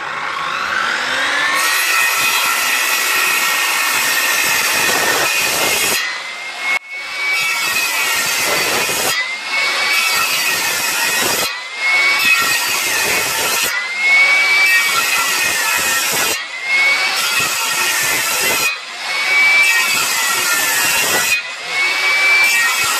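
A power saw cuts repeated notches about 6.5 cm deep into timber for a wattle-and-daub cabin frame, a loud sustained whine in long passes broken by brief pauses.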